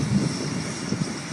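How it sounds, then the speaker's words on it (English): A helicopter during an emergency landing, its loud engine and rotor drone close and steady with a low pulsing throb, no voices. "And they got the chopper."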